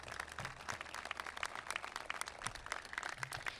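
A crowd applauds committee members at an outdoor park monument dedication, giving a fairly faint, steady patter of scattered clapping, some distance off, with no talk over it.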